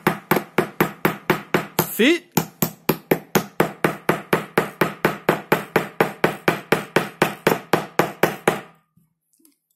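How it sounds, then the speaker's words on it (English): A fishing float fitting is tapped down with side cutters: about thirty quick, evenly spaced sharp taps close up, with a brief pause early on, then the tapping stops and quiet follows. "tap it down with a hammer, or in this case, I'm using the side cutters"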